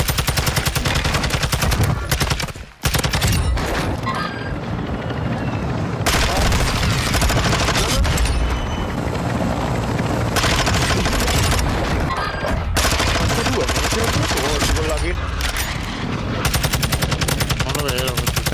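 Gunfire in Warzone 2, dense rapid automatic bursts that run almost continuously with loud booms and a brief drop near the start, with a voice talking at times beneath the shooting.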